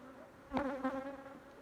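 A brief buzz of honey bees around an open hive during a brood and honey inspection, one insect passing close with a rising, wavering drone over quiet background.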